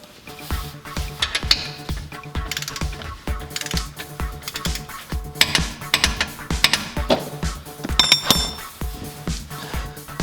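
A torque wrench tightens the differential drain plug on a 1988 Toyota Supra, giving a close series of quick metallic ratcheting clicks and clinks in uneven bursts.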